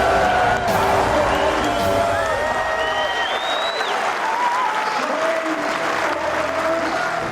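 Racecourse crowd roars and applauds loudly for a racehorse and its jockey, a dense sustained wash of cheering, clapping and whoops with voices rising in pitch through the swell.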